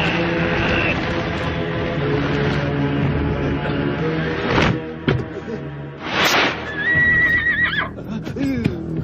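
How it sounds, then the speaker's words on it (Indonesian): A horse neighs loudly and repeatedly on a dramatic mountain road scene, shrill whinnies rising over clip-clopping hooves and a tense music bed, with voices heard around them. "Lepaskan kuda."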